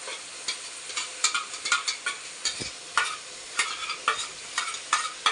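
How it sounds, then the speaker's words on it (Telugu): Tomato puree stirred into chicken curry cooking in a pan, with a spoon scraping and clacking in irregular strokes over a soft, steady sizzle, close up with no voices. "ఇప్పుడు ఇలా ఉడుకుతున్న చికెన్లోకి మనం మిక్స్ చేసి పెట్టుకున్న ఈ టమోటో ప్యూరీ అంతా మొత్తం వేసేసుకోవాలి"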